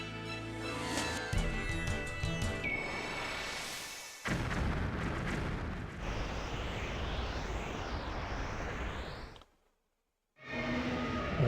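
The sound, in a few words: cannons firing at boss in Klonoa video game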